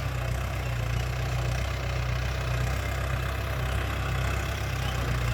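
A Ford 6610 tractor engine runs with a steady, even diesel drone while pulling a three-disc plough to prepare soil for sugarcane. The sound is constant and unbroken, with a low rumble held at moderate distance.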